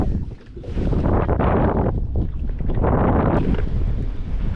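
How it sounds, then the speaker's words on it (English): Strong wind of about 40 mph buffets a bass fishing boat during a spring tournament, a loud, continuous roar of gusts pounding the microphone with no break. "so windy."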